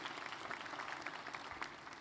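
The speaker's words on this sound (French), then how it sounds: "Bravo Alain, on l'applaudit également." Applause from a conference audience for an award winner at a customer-relations event, a steady, fairly faint wash of many hands clapping throughout with no talk over it.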